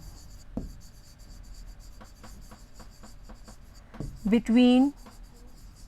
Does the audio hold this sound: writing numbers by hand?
yes